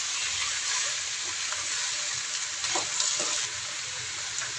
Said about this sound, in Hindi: तो जी अच्छे तरीके से कीमे को मिक्स कर लेते हैं।